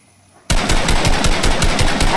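Sustained rapid gunfire erupts in a Fortnite match after a brief quiet start, loud and continuous, with rhythmic bursts filling the rest of the clip.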